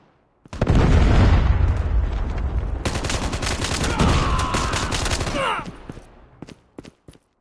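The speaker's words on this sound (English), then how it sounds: "Hostile Predator missile inbound." Dense, loud gunfire and explosions from a Predator missile strike in a Call of Duty Mobile free-for-all match, a sustained roar of blasts and rapid shots that cuts off abruptly and tails away into quieter scattered pops.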